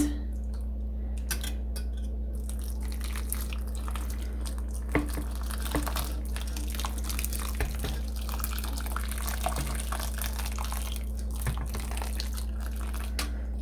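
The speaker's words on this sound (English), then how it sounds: "Now I'm going to add some water." Water gently poured and trickled over dyed fiber in a dyeing setup, a soft continuous splashing and dripping under a steady low hum, with a few small clinks.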